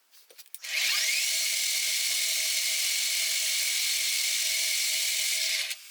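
A milling cutter cuts a 6 mm groove into a lightweight valve pushrod for a Dnipro MT enduro motorcycle, giving a steady, loud, high-pitched whine that holds for about five seconds before stopping.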